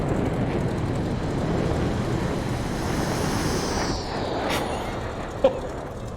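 An F-18 jet in a flight simulator game roars with a dense, steady rumble, and a thin whining tone slides downward as it passes, ending with a short thump.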